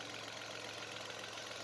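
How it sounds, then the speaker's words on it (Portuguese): Ford EcoSport 1.5 three-cylinder engine running after a noise repair: a steady, even idle hum with a low drone and fine rhythmic pulsing, moderately close and constant, with no voices. "Motor funcionando, tudo certinho agora, sem nenhum barulho."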